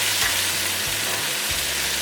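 A pork chop sizzles loudly in a hot frying pan, a steady crackling hiss up close with faint low scraping beneath, no talking.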